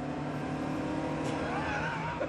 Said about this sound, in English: There's a fair bit of period turbo lag, as you can hear.